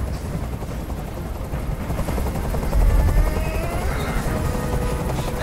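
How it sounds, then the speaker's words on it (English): Helicopter rotor noise from the video game Detroit: Become Human thrums steadily overhead for several seconds, loud and continuous, with a low throb growing slightly heavier midway and no talking over it. "Tell that helicopter to get out of here."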